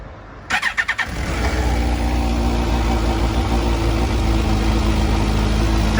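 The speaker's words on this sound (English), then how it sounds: "Clutch in to start the Suzukis." A 2005 Suzuki GSX-R 1000 K4 motorcycle cranks with a brief stutter of starter pulses, fires, and settles into a loud, steady, close idle.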